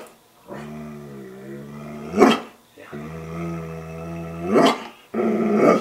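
A dog growls in long, throaty, rising stretches that each build into a sharp bark, repeated three times close to the microphone.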